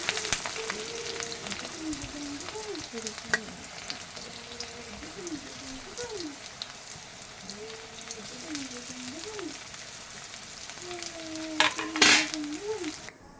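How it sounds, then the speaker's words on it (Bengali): Chopped onions fry in a pan for egg tadka dal, giving a soft steady sizzle with light stirring scrapes, under a tonal voice-like sound. "তারপর দিয়ে দেবো কেটে রাখা পেঁয়াজ পেঁয়াজটা দিয়ে একটু নেড়ে চেড়ে"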